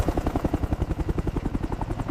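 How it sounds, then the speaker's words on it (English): A helicopter's rotor thumps steadily and close by, a fast rhythmic chop of blade wash with a deep low drone and no voices over it. "rotor wash."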